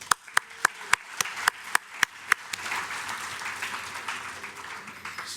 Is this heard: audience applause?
yes